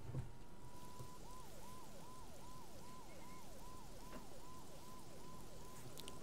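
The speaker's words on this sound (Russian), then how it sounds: "Должно быть, Мона тоже слышала сирены" A police siren in the video game Max Payne 2: The Fall of Max Payne yelps in a fast, regular rising-and-falling pattern, clear and fairly close, over a constant hissing background wash.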